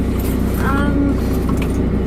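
Inside a parked car, a steady low engine hum and cabin rumble fill the space, loud and close, while someone talks over it.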